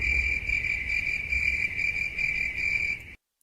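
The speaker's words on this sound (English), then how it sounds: "Got some more crickets." Crickets chirp in a steady, close, high-pitched trill that pulses in a regular rhythm, then cuts off abruptly near the end, with no voices.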